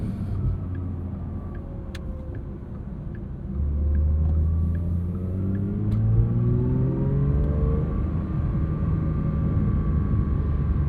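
A 2025 Porsche 911 GT3 flat-six accelerates hard from inside the car on a sunset commute, its rising engine pitch sweeping upward through several gears under a steady road rumble.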